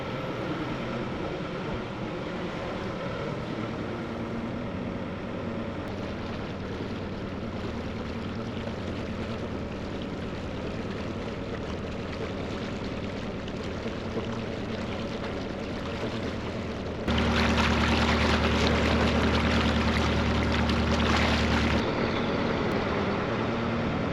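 A speedboat races past on the River Weaver, its engine drone building into a louder, closer roar with water churn toward the end, heard over a steady low rumble with no talking.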